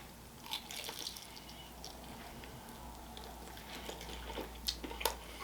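Someone chews a big bite of Chinese food, giving close, faint, wet squishing and smacking sounds with occasional sharper clicks over a low background hum.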